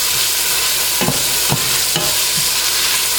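Peppers sizzling in a hot pan as they are stirred for a collard greens (sukuma wiki) dish, a steady loud frying hiss with a few soft scrapes of the spoon.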